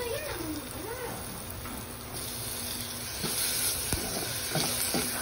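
Food sizzles and spits steadily in a frying pan earlier used to fry fish, the sauté noise loud and continuous throughout with occasional clinks.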